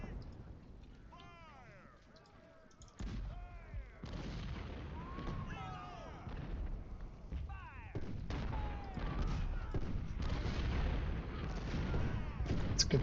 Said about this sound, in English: let's have every artillery piece firing on Cooper here